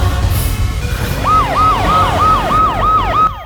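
An ambulance siren wails close and loud in a repeating rising-and-falling sweep, several cycles in a row over a low rumble, then cuts off abruptly at the end.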